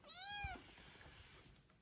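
A tiny abandoned kitten, not yet weaned and with an eye ailment, gives one clear, high rising-and-falling meow close by, followed by faint rustling and quiet background.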